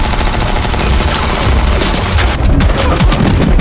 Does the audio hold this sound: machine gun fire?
yes